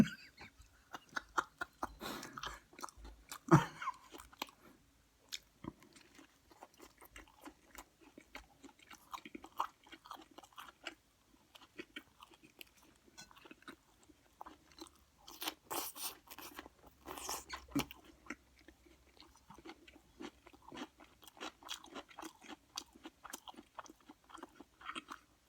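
Close-up chewing and crunching of a turkey BLT sandwich with bacon, lettuce and tomato, soft wet mouth sounds and bites repeating through the stretch at low level, with no talking.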